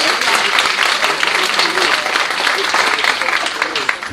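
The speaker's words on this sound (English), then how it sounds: "Let's clap it up for Lieutenant Robinson." Applause from an audience at a women's empowerment symposium as Lieutenant Robinson comes up, a dense steady patter of clapping with voices mixed in underneath.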